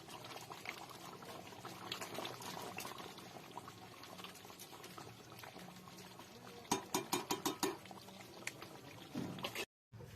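Mutton curry bubbling in a pot, a steady simmering burble with a few sharper spoon or pot clinks near the end, close and moderately loud, no talk.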